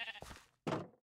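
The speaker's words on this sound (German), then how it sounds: "Noch ein Schaf." A Minecraft sheep bleats twice in close succession, the second bleat louder and near, then it falls quiet.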